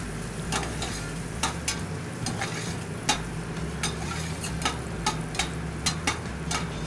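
Shallots sautéing in a pan give a steady, close sizzle with scattered crackles and pops throughout, no voices over it.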